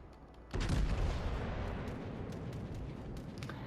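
A battleship in World of Warships fires a salvo of HE shells: one heavy, deep boom lands suddenly, then a long rumbling tail slowly fades.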